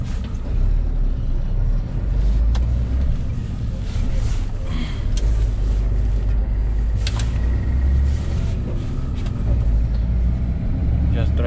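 A MAN TGM 15.250 truck engine drones steadily while driving, with a low rumble and road noise heard from inside the cab and someone talking over it.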